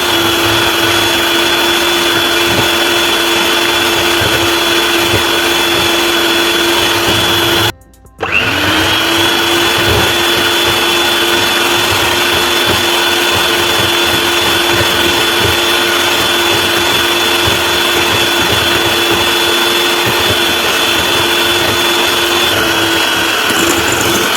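An electric mixer whips cream toward stiff peaks for a rasmalai milk cake, a loud, steady whirring drone that cuts out briefly and then starts again and runs on.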